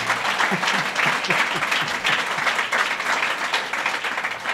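A crowd applauds at a governor's announcement at Glens Falls Hospital, with thick, even clapping throughout and a few distinct nearer claps standing out in the first half.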